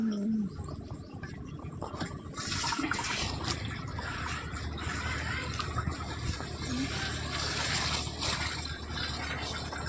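Water runs into a metal pot in a home kitchen, a steady pouring stream lasting throughout and rising slightly in fullness, with faint background household noise and no clear talk.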